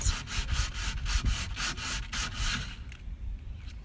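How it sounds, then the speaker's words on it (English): Steady rhythmic hand sanding between the grooves of an old oak dresser, a raspy back-and-forth scratch repeating about three times a second, close and continuous. "I still have to finish sanding in between these grooves"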